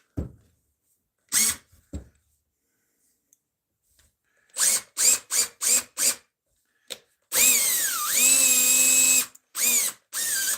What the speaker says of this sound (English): I wonder if I should drill a little pilot hole first